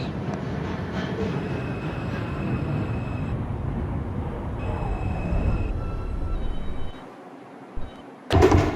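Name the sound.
New York subway 4 train riding between stations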